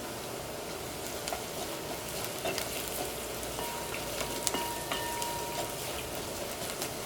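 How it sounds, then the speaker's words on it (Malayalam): Carrots and crushed pepper sizzle and crackle steadily in hot oil in a pan for a soft Kerala-style vegetable rava upma, with a close, even frying hiss and scattered pops. "ഈ ഓയിലിൽ കിടന്നിട്ട് ഈ ക്യാരറ്റ് ചെറുതായിട്ടൊന്ന് മുരിക്കണം"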